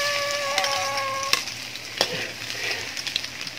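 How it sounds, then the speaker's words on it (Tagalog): Garlic sautéing in hot reused cooking oil, with a steady close sizzle and frying crackle, occasional sharp clicks and scrapes of a utensil stirring the pan, no talking. "magigisa na tayo ngayon"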